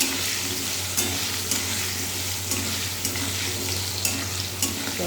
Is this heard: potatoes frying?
yes